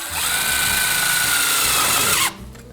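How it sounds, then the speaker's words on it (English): A power drill drives a self-tapping screw into metal ductwork pipe, one sustained high whine for about two seconds that slows and stops abruptly, close and loud. "We can throw in a couple of screws now just to make sure this assembly doesn't come apart."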